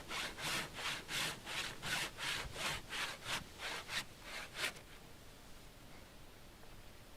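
A hand saw resaws a wooden electric guitar top: about a dozen steady rhythmic strokes rasp close and loud, then stop, leaving quiet room tone.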